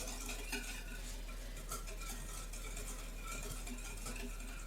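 A whisk works a hot sugar mixture for old-fashioned ice cream, soft steady scraping and swishing against the bowl, quiet and close with no voices over it.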